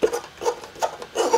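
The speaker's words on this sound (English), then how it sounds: "When you are playing the piano, this plasticky key will just keep squeaking." Squeaky plastic keys on a Yamaha Piaggero NP32 keyboard, a series of soft rubbing squeaks and light clicks at an uneven rhythm, close and quiet with no talk.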